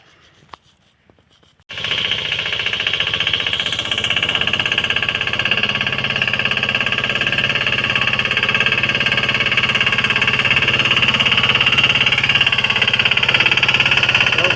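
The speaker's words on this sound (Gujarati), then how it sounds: "આવી રીતે હાલે છે અમારો સનેડો" A small locally built sanedo tractor engine runs steadily on a farm, starting abruptly after a quiet moment and then holding a loud, continuous rattling drone throughout.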